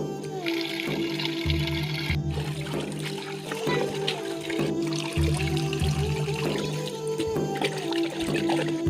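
Malabar spinach leaves are rinsed by hand in water, with continuous splashing, pouring and trickling sounds close by and occasional knocks.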